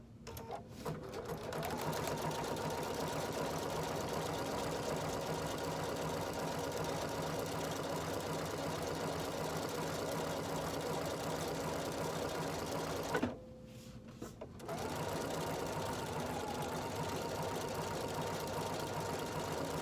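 A sewing machine runs a triple straight stitch with standard thread through cork handbag material. It whirs in a steady, continuous mechanical drone, pauses briefly near the end, then resumes at the same even pace.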